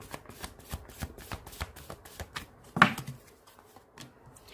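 Tarot cards are shuffled by hand, a quick series of crisp close riffles and taps with one sharper snap near the end.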